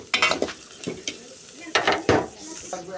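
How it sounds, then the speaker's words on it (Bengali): Chopped onions frying in a pan after dried chillies, as a base for a hilsa fish dish, with repeated scraping stirs and bursts of sizzle close by. "পেঁয়াজটা ভেজে দেব"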